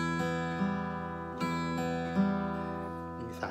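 Plucked acoustic guitar notes ring out in a gentle repeating pattern, several soft attacks over sustained strings, quiet and close.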